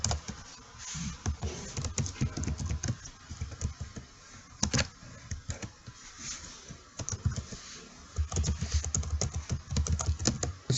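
Fast clicking keystrokes on a computer keyboard while typing an email address into a login box, in irregular bursts with brief pauses, close and clear.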